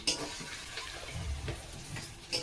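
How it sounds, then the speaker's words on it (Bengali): Meat being stir-fried in a pan for biryani, a steady close sizzle with soft scraping and stirring throughout. "একটু কষাচ্ছি ভালো করে মাংসটা"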